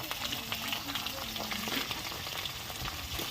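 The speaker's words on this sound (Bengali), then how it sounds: "চিংড়ি মাছটা দিয়ে দিলাম, একটু ভাজা ভাজা করে নেবো" Shrimp and onion fry in hot oil in a pan, giving a continuous close sizzle with occasional stirring scrapes, moderately quiet and without speech.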